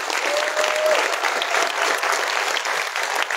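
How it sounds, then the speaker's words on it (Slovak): Concert audience applauding a performer named Emi at a premiere, a steady wash of many hands clapping throughout, dense and sustained at fairly close range. "Veľký potlesk pre Emi"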